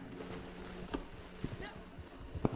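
Soft hoof clip-clops of a horse in the game Red Dead Redemption at an uneven walking pace, a few scattered steps under a low background hum, with a voice talking faintly.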